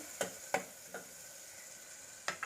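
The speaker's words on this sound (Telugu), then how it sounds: "వెన్న మంచిగా ఇలాగా మెల్ట్ అవుతుంది కదా" Butter melts in a pan with a faint, soft sizzle, broken by a few sharp spoon taps and scrapes.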